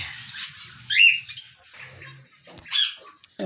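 Quails and small birds in a colony aviary give scattered squawks and chirps, two louder calls standing out against softer bursts, while a low murmur sits underneath at moderate distance.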